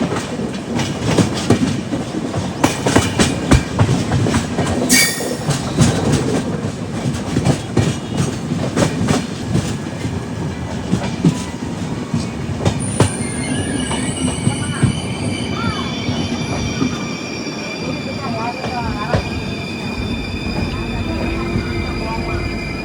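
The Ernakulam to Velankanni Express runs loudly on its rails, with rumbling wheels, rhythmic clatter and high wheel squeals in the second half, close and continuous.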